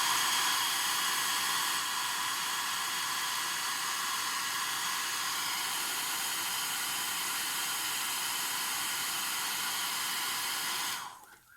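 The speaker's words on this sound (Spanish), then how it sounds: "Volvemos a secar." Steady roaring hiss of a hair dryer drying fabric paint on a handmade cloth elf doll, running loud and constant before cutting off abruptly at the end.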